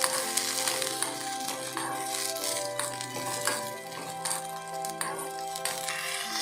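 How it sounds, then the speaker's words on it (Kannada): Spices and green peas fry in a pan for a dhaba-style matar masala curry, giving a steady close sizzle broken by light clinks and stirring scrapes, with no talk. "ಇದನ್ನು ಸ್ವಲ್ಪ ಫ್ರೈ ಮಾಡ್ಕೊತಾ ಇದ್ದೀನಿ."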